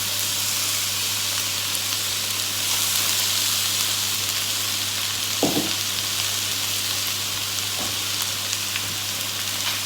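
Onions frying in olive oil in a pan, a continuous even sizzle with a low steady hum beneath and a couple of short stirring knocks, close and alone.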